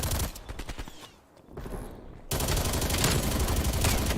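Video game gunfire with shotgun blasts: rapid bursts of shots, a short lull, then a sustained loud volley of continuous firing.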